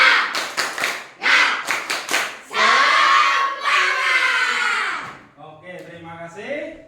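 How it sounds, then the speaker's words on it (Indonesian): A class of children doing tepuk semangat clapping: quick, patterned bursts of claps in a set rhythm, then loud children's voices shouting together. "Ayo, tepuk semangat."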